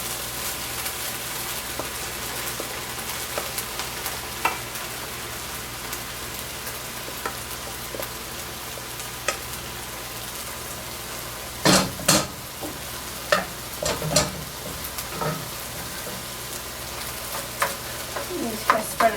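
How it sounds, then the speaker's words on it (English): Rice fries in a pan for chicken fried rice, a soft steady sizzle with scraping stirs and clattering utensil knocks growing busier in the second half. "So I'm just going to take my rice and put it right in the pan."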